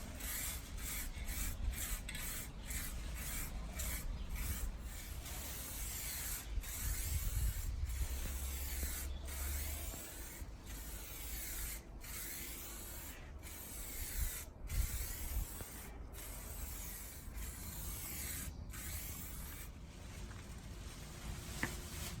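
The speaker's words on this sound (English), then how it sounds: "So first you spray light coating" Steady hissing spray runs throughout, broken by regular sharp clicks and brief pauses, as an aerosol spray can applies a light coat of paint to a car in repeated passes.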